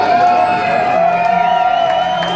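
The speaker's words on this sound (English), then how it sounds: "And this crowd can appreciate the efforts of Omega." A wrestling crowd cheers and whoops loudly after a tag team victory at an indoor event, a dense sustained roar with shouts rising above it.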